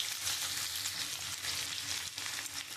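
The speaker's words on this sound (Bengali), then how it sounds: "কুমড়ো আলুটা লাল লাল করে ভাজা হয়ে গেছে।" Diced pumpkin and potato fry in hot oil in a pan, with a steady close sizzle and crackle and light stirring, and no talk over it.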